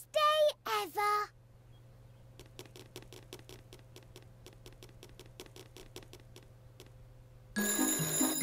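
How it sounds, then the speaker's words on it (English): A telephone rings in the Peppa Pig video game with a rapid, trilling string of short electronic pulses that stops after several seconds. Cartoon voices come just before and just after. "The phone is ringing."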